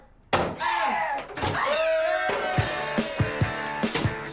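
Heavy blows hit a door and fittings during a kitchen demolition in a home makeover, one loud slam followed by a run of sharp knocks and thuds, with voices and shouting mixed in.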